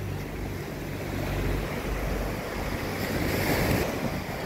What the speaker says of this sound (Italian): il mare è leggermente, leggermente mosso